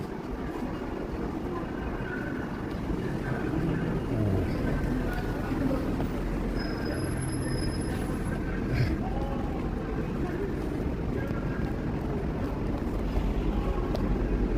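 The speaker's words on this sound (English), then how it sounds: "It's cold and windy." Steady outdoor wind rumbling and buffeting a microphone, a constant low roar throughout with faint voices underneath.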